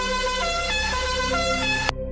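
A single sustained car horn blast with a bright, steady harmonic tone, held loud and close for about two seconds before cutting off abruptly, with no talk over it.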